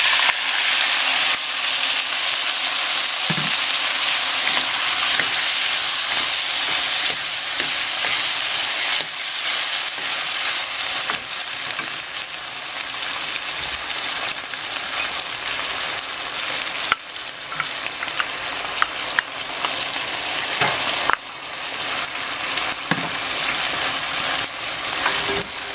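Sweet and sour sauce poured over meatballs in a hot pan produces a loud, continuous, dense sizzle and hiss lasting the whole stretch, with occasional scraping stirs and small pops and no talking.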